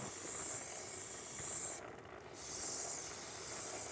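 Maxima chain cleaner hissing from an aerosol can onto a grimy motorcycle chain, a steady close spray that breaks off briefly midway and then resumes at the same strength.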